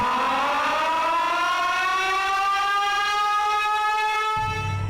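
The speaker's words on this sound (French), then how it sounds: "toutes les sirènes de France qui sonnent tous les premiers mercredis de chaque mois" A French civil defense siren of the kind tested on the first Wednesday of each month wails loudly and continuously, its tone slowly rising in pitch. A low rumble comes in near the end.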